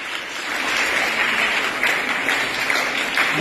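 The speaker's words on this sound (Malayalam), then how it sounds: "കയ്യടിക്ക് ശക്തി പോരാ" Students applaud at a school entrance ceremony, with a crowd of hands clapping steadily at moderate volume throughout.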